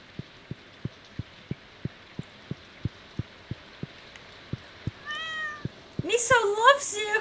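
A cat meows in the Stardew Valley farming game: several bright, close mews arrive near the end, following a steady run of soft, evenly spaced thumps.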